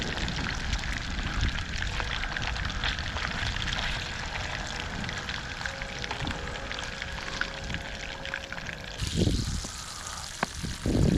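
Fingerling white bass frying in bacon grease, a continuous soft crackle and sizzle at moderate distance that breaks into clattering handling sounds near the end.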